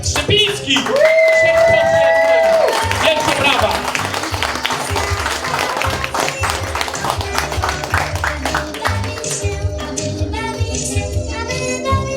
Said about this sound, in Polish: Zróbcie wielkie brawa